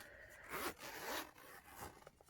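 A zipper on a leather Hobonichi planner cover is drawn open in two or three quick, close rasping strokes, bright and scratchy, with no talk over it.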